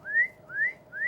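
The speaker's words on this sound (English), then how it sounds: "So a lot of times they'll whistle." A small pet animal gives three rising whistles in quick, even succession, each a short upward-sliding chirp, close and clear against a quiet room.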